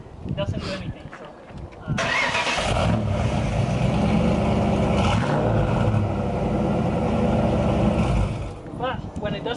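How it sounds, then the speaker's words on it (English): A 1995 Ford Mustang Cobra engine cranks briefly, then catches and settles into a loud, steady idle close to the microphone. "but when it does turn over, it starts real quick"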